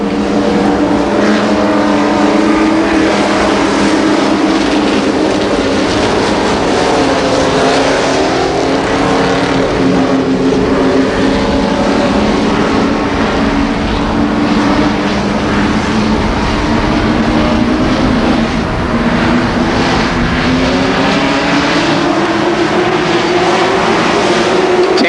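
Late model stock cars roar off at the start of a heat race at Columbus Motor Speedway, a loud, sustained pack of engines droning and rising in pitch together for the whole stretch.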